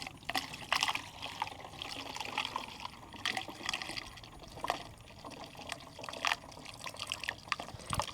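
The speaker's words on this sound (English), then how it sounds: "Fill my bottles." Water pouring into 32-ounce bottles, a quiet continuous trickling and gurgling flow with uneven splashy surges, heard close and fairly soft.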